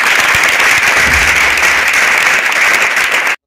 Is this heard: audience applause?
yes